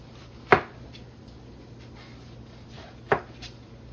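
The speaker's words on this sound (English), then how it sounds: "the last thing I'm going to do is cut a slice down the front" A knife cuts through a head of fresh cabbage in two crisp, quiet slices a few seconds apart, close up and otherwise near-silent.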